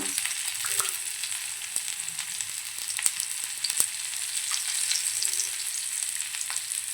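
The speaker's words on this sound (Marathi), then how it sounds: "आता या साईडनं पण आपण दोन मिनटं छान फ्राय करून घेऊया" Karli fish coated in masala fries in oil in a pan, Malvani style, giving a steady close sizzle and crackle with scattered sharp spits and pops.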